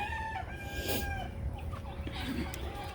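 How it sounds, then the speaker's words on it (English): Several chickens cluck and squawk close by in a busy, overlapping chorus, with some rustling and background farmyard noise. "the chickens lay in that corner"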